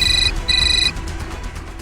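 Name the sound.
phone ringing during a call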